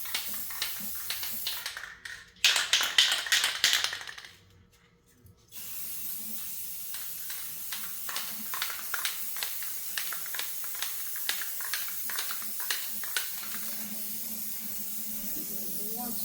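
An aerosol can sprays paint onto an outdoor vase in a short loud hissing burst, then quieter clicks and light rattling taps follow, with faint background noise.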